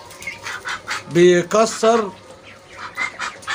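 Muscovy ducks kept at home give several loud, close honking squawks in short bursts while someone talks over them.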